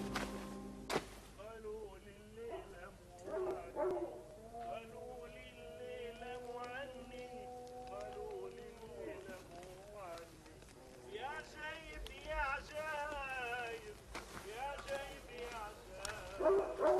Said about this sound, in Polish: Słucham nawoływania zwierząt. Może to psy pustynne, a może szakale.